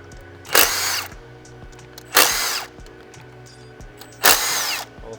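A power tool, likely an electric ratchet, spins out 10 mm fuel rail bolts on a Gen II Chevy Cruze engine, with three separate short whirring bursts, evenly spaced and close by, and quiet pauses between.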